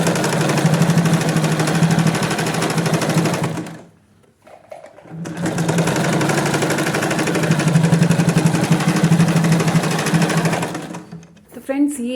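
A sewing machine runs straight stitching on children's shorts, a loud, close, steady mechanical whir that stops briefly midway, then starts again and runs on before a final pause.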